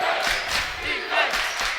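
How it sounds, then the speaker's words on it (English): A crowd at a high school varsity boys basketball game roars and cheers steadily late in a tight fourth quarter, a loud, continuous wash of voices with a few swells. "And this crowd is now fired up once again"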